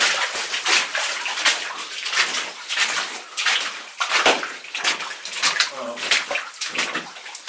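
Continuous rushing, splashing water draining inside the 16 to 1 gold mine, pouring close by, steady and loud throughout with no pauses.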